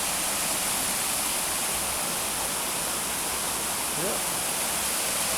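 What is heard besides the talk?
river rushing white water near a waterfall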